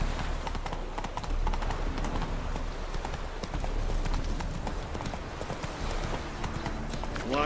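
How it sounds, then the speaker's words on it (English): Rapid clip-clop of a horse galloping in The Witcher 3, a quick steady hoof rhythm close and loud over outdoor game ambience, with a brief whinny-like sound near the end. "Run, Roach."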